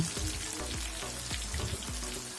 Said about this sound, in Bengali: চুলোর আঁচটা হাই হিটে রেখে চিকেনগুলোকে কিছুক্ষণ ধরে ভেজে নিতে হবে